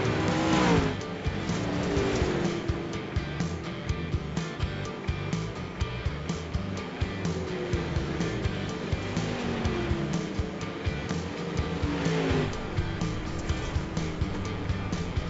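Dirt late model race cars roar around Eldora Speedway in the iRacing simulator, with a continuous loud engine drone, passing cars and tire noise throughout the clip, and almost no talk.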